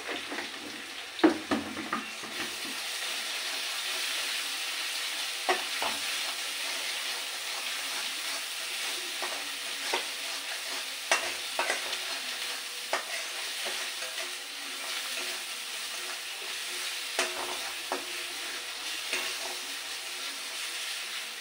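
Spices sizzle and fry steadily in a pan while being stirred, with intermittent scraping clicks of the spoon against the pan throughout, loud and close, no talking.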